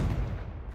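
A Confringo fire spell blasts off in Hogwarts Legacy, a single loud, heavy boom up close that rolls into a fading rumble.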